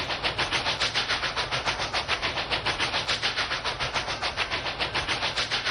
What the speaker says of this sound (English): So the train have started to move a little bit on,